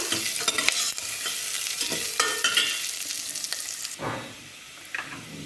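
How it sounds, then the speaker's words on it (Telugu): Four green chillies soaked in curd fry in a pan, giving a close crackling sizzle with scraping stirs and clinks. The frying quiets near the end, with no talk. "4 చల్ల మిరపకాయలు, అంటే పెరుగులో నానబెట్టుకున్న మిరపకాయలు అన్నమాట. ఇది కొద్దిగా వేగాక"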